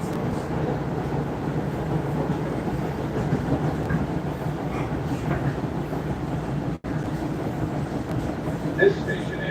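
A New York subway train stands at Harlem 125th Street station with a steady rumbling, rattling hum that runs throughout, while a brief electronic chime sounds near the end.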